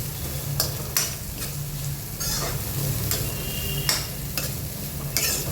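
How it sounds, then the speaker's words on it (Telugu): Beans fry in a little oil in a pan, a constant close sizzle broken by repeated scraping stirs of a spoon across the pan at a roughly regular pace. "అది కొద్దిగా వేడెక్కాక ఫస్ట్ బీన్స్ని వేసి ఫ్రై చేసుకుంటున్నాను."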